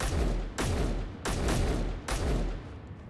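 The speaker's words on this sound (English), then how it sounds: "It's an interior turret that just shot its way out of one of the buildings" Interior turret in Space Engineers firing in three heavy, booming bursts of rapid gunfire, each followed by a decaying rumble, loud and close with no talking.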